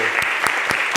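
A church congregation claps in steady, evenly spaced beats, about four crisp claps in a second, moderately close, with faint murmuring beneath.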